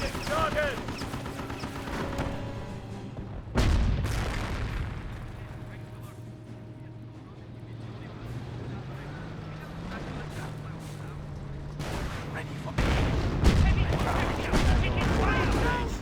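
Incoming artillery and gunfire in the Company of Heroes 1 battle, British against Wehrmacht: heavy booming bursts near the start and again toward the end over a constant low rumble, with muffled voices mixed in.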